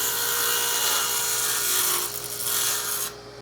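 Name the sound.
table saw cutting wood spline kerf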